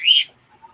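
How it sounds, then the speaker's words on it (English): A single short, bright bird chirp sounds up close and fairly loud, then fades to near silence with only faint background murmurs. "Pretty bird, pretty bird."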